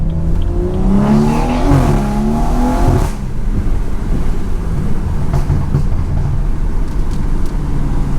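A tuned BMW 340i xDrive with a B58 engine and downpipe launches hard on a wet road, its engine revving up loudly over heavy wind and road rush, then settling into steady driving noise.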